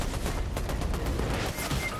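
Gunfire in Fortnite, a dense run of rapid shots crackling continuously for a couple of seconds, fairly loud and close with no voices over it.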